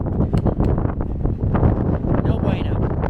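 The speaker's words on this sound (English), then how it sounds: "It is really windy." Strong wind buffets a microphone outdoors on a farm, a constant loud roaring rumble with gusty bursts, while someone talks over it.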